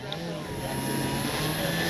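The electric motor and propeller of an Avios Grand Tundra radio-controlled airplane wind up to a steady, rising whine on a grass-field takeoff, continuous and fairly loud, with a voice talking over it.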